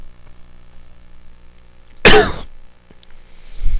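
A single harsh, loud cough bursts out close up against a quiet room hum, followed by a faint breath and low rumble.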